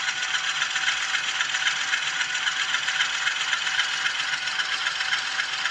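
N scale U25B model locomotive fitted with an ESU LokSound 5 Micro DCC decoder pulling away at its lowest speed step, giving a steady, even mechanical whir and faint rattle that runs unbroken at moderate level with no talk.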